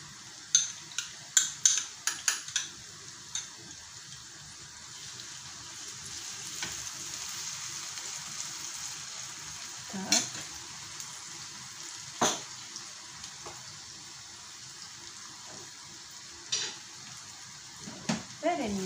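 A spoon stirs mayonnaise and spicy shashlik ketchup into a sauce, with a quick run of light taps and clicks at first, then quiet scraping and occasional soft knocks, all faint.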